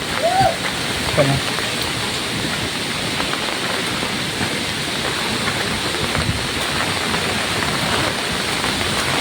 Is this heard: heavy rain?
yes